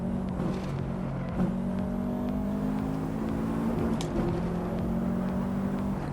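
A 400hp Subaru WRX STI drives on a track, its engine holding a loud, steady droning growl from inside the cabin with slight pitch shifts and no one talking.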